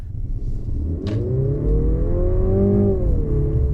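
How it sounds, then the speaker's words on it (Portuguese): The engine of a Mercedes C 200 in Sport mode revs up with a rising, throaty tone, heard from inside the car over a low rumble, steady and fairly loud. "dá para ouvir bem o motor, que também muda de som"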